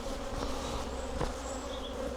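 Honeybees hum steadily around beehives, a dense continuous drone from many insects close by, with brief passing whines of individual bees flying near and no voices.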